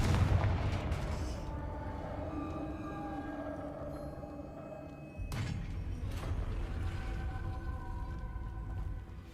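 A Confringo blast spell in Hogwarts Legacy erupts as a deep booming thud at the start and again midway, each followed by a rumbling tail within a low game backdrop.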